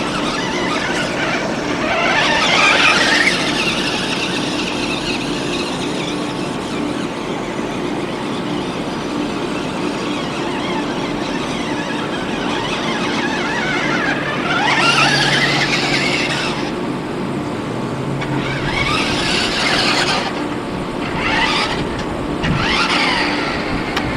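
A Wyze RC car modded with a Lego Jeep body drives through tall grass outdoors, producing a loud continuous whirring motor drone with brief higher squealing surges, close and without talk.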